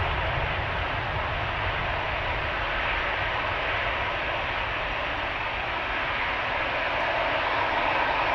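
A Boeing 747 airliner at Amsterdam Schiphol Airport gives a loud, steady engine roar that holds evenly throughout with no break, broadband and close, with no voices over it.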